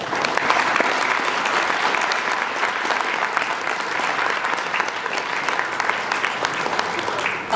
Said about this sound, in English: Can we just give all of those people a round of applause?